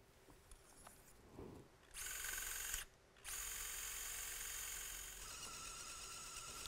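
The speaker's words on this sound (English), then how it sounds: "With the wire sleeves removed, you can proceed with drilling." A high-pitched surgical power drill whines while drilling bone during a minimally invasive bunionectomy, in two sustained bursts separated by a brief pause, steady and fairly close.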